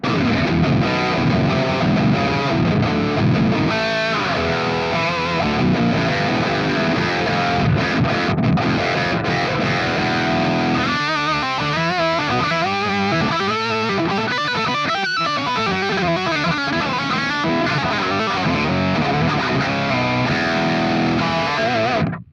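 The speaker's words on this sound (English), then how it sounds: "And with the precision overdrive." Rhythm guitar through a Fractal Audio preset with a precision overdrive, churning through dense, gritty chords, loud and sustained throughout, with choppier strummed passages in the middle and no talking.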